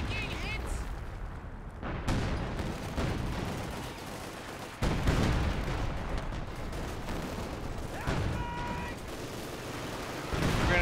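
Gunfire and artillery blasts from a Company of Heroes 2 winter battle on Oka River, with a German MG42 position under fire; dense, continuous battle noise with sharp bursts and booms under a commentator's talk.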